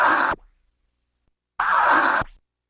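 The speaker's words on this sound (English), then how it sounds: "You can also do the stab with the up and down fader." A pair of DJ stab scratches on vinyl chopped with an up-and-down fader, each a short loud burst that cuts off sharply, separated by over a second of silence.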